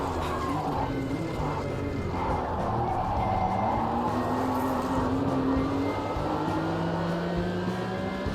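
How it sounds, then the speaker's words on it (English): A Porsche engine in a racing simulator drones steadily and bogs down as the car loses drive, its low, sustained hum running continuously at moderate level with faint background noise. "it sounds so realistic when the car's bogging down on the engine now"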